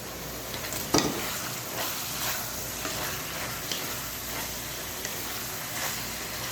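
Cabbage and green capsicum stir-frying in a hot pan for chicken fried rice: a steady, close sizzle with occasional stirring scrapes and no voices.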